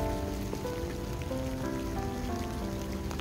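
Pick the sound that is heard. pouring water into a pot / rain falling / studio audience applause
rain falling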